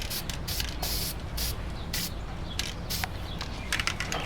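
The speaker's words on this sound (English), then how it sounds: "Every time you cut them, you then need to spray them with the approved finish." An aerosol can sprays approved finish onto the freshly cut ends of deck joists in a string of short hissing bursts, close up and brisk, with brief gaps between them.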